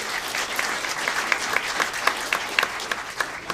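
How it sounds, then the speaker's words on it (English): Audience applause for a panel speaker at a military training technology panel event, steady dense clapping from a crowd throughout, fairly loud and continuous with no talk over it. "Let's give a round of applause for Mike."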